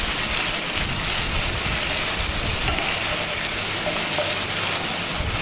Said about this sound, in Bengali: এবার আমি চিকেনগুলোকে হালকা ফ্রাই করে নেব